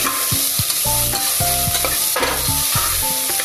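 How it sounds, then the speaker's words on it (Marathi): Green chilli, tomato, cabbage and cauliflower sautéing in oil for vegetable pulao, a loud constant sizzle close up. Repeated scraping and squeaking strokes of a spatula against the pan run through it. "हिरवी मिरची, टोमॅटो, कोबी आपण तेलात परतून घेऊया।"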